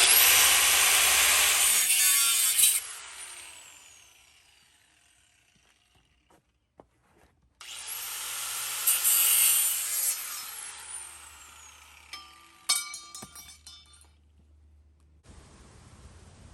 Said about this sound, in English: I'm going to go ahead and use an angle grinder to get at that